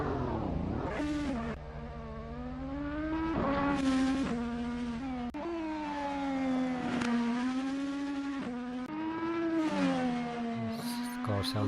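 In a racing sim, an IndyCar engine screams up the Goodwood hillclimb, revving hard through repeated gear changes and dips under braking, loud and constant for the whole stretch.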